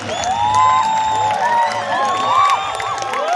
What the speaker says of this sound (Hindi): जोरदार तालियों के साथ कैसी लगी आपको प्रस्तुति नंदा की कथा? एक बार हो जाए शोर के साथ।